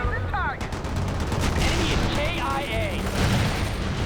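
Tank cannon fire in a World in Conflict battle, shells from aluminium-hulled air-droppable tanks, sounding as a dense, continuous barrage of booms and gunfire with game effects layered over it.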